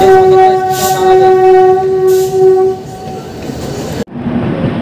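A Howrah–Purulia MEMU local train running, with a loud, steady horn blast over the rumble of the carriages, close by, ending in an abrupt cut to continued rolling noise.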